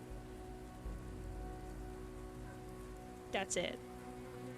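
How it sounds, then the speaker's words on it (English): Steady rain ambience with a soft continuous patter and a low tonal hum underneath, interrupted near the end by a brief spoken voice. "I myself don't hear the humming, but I hear the rain."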